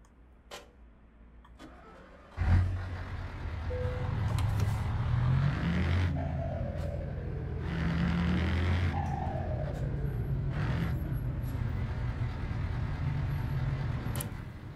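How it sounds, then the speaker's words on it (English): A truck engine in Euro Truck Simulator 2, fitted with an FMOD sound mod, cranks sharply to life and settles into a steady, low idle rumble that carries on evenly with faint clicks on top. "Now in game, if we just turn on the engine to check the sound."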